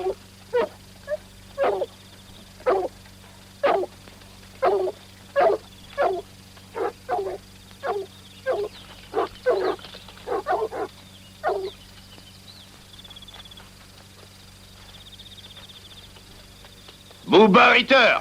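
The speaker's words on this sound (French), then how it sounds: "Allez, les chiens." Hunting dogs bark in a steady run of sharp, evenly spaced yelps with whines in between, fairly close, before a sudden louder burst of activity at the end; people talk around them.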